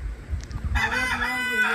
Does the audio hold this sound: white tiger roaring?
no